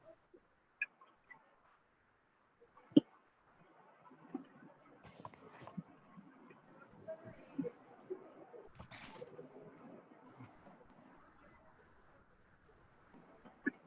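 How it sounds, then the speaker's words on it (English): Pigeons coo softly with scattered bird calls outdoors, faint and fairly distant, broken by a few sharp clicks and ticks over a quiet background. "Bird song."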